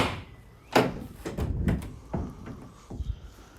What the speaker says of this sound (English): So the rear doors lock into place, as you can see.